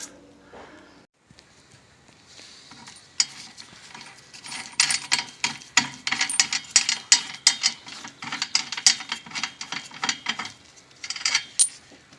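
Ratchet wrench fitted with a 10mm socket loosening nuts on an LG top-load washer motor, a rapid clicking pawl ticking in bursts of quick close strokes with short pauses between, alone with no talk.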